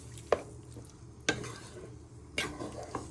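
Stirring a chicken and mushroom stew in a pan with parsley: three or four distinct scraping clacks of a utensil against the pan over a soft background sizzle, close and fairly quiet, no talk.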